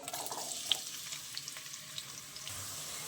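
Chopped onions in cooking oil in a kadai make a quiet, even frying hiss with a few small pops and light clicks, faint and continuous, no voices present.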